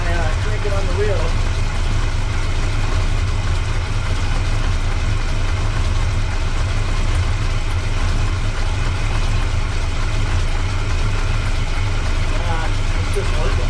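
A 1962 Chevrolet C10 pickup engine idling steadily while the steering wheel is cranked, a loud continuous low rumble close by with faint mechanical noises over it.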